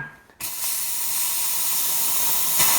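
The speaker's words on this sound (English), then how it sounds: "The steam looks okay." Steam wand of a Gaggia Classic Pro espresso machine hissing: after a brief quieter moment, a loud, steady, close-up rush of steam holds unbroken to the end.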